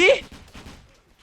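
Gunfire in the Roblox D-Day war game: a brief loud burst of shots at the start that fades quickly, with a voice talking over it.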